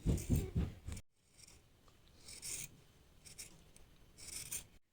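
Scissors cutting fabric along marked lines during beginner sewing: a few close, crisp bursts of snipping, separated by quiet pauses.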